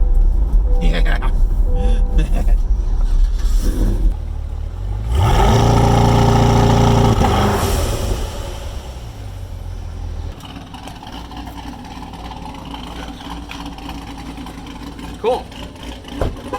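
A twin-turbo C8 Corvette drag car revs hard at launch, the engine note rising and holding loud for a couple of seconds before fading away, with idling and voices before and after.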